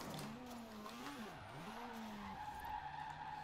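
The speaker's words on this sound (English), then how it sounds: "Okay, yeah, this thing is good at control drifting." A Mazda RX-7 Spirit in Forza Horizon 4 drifts with tyres skidding and squealing in long, wavering tones over the engine note, loud and continuous for several seconds before easing off.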